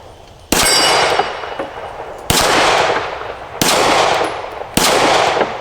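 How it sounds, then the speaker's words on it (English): Four loud Taurus G3 pistol shots at an outdoor range, fired at irregular intervals about a second apart, each a sharp crack with a ringing metallic clang from the target and a long echoing decay. "let's do a little bit of shooting, see if we can hit anything here"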